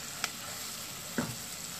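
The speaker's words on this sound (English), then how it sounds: "So give them a quick little fry up in the butter." Butter sizzles quietly and steadily in a pan, with a couple of brief stirring clicks over the soft frying hiss.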